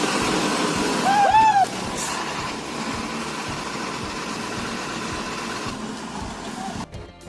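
A Tata 121 heavy truck engine idles with a close, steady diesel rumble and a faint rhythmic throb. A brief higher chirping sound comes early on.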